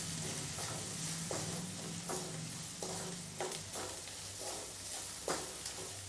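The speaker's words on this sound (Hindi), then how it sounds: "सारे मसालों को दोस्तों अच्छे से मिक्स कर लेते हैं।" A spoon scrapes steadily through spices in a sizzling pan while garlic kofta is being made, the stirring strokes repeating at an even pace over a constant fry.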